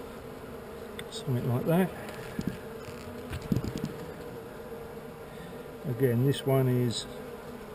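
Honeybees buzz steadily around an open hive with extra comb built on the side, a continuous insect drone under intermittent speech from a nearby person.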